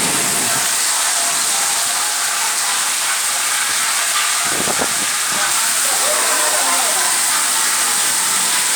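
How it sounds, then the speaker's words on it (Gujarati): Heavy first-monsoon rain with wind in Vejalka village, Ranpur taluka, Botad district, Gujarat, makes a dense, loud, unbroken hiss, and a brief low rumble of thunder sounds midway. "મિત્રો કેટલો વરસાદ સાથે વીજળી ધમધમી રહી છે।"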